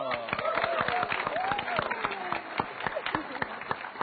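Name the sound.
applause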